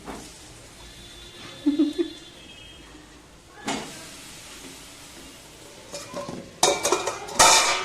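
Potatoes tossed into yogurt-marinated chicken in a pot and stirred, giving a few scattered metallic clanks and scrapes of the spoon against the pot, close by, separated by quiet stretches and ending in a louder clatter.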